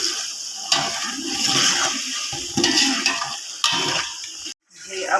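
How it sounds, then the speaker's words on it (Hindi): A little water is poured into a hot pan over browned green chilli paste while cooking matar pulao, giving a steady close sizzling hiss with a few sharp bursts and a brief drop before it resumes. "अब हम इसमें साथ ही पानी ऐड कर देंगे थोड़ा सा।"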